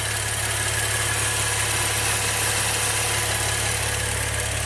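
A Maserati engine idles smoothly and steadily, a constant low rumble with even vibration close by, nobody talking over it.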